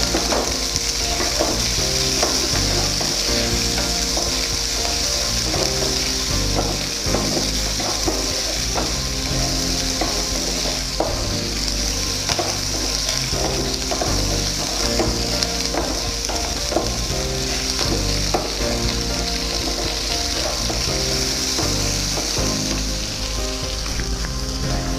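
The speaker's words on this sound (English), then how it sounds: "capsicum, green chilies, saute all the vegetables," Capsicum, green chilies and onion sautéing in a pan for chicken salt and pepper, a loud, steady sizzle with constant rattling and stirring throughout, no voices.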